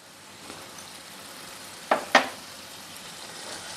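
Cooked chickpeas stirred into sizzling spice paste and oil in a pan, with a faint constant frying hiss and two sharp close scrapes or clanks of the spoon midway.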